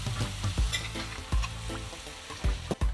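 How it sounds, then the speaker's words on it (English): Ackee added to a pan of sautéed vegetables sizzles continuously while a spoon scrapes and knocks against the pan in irregular strokes, close and fairly quiet. "now I'm gonna add my ackee to this"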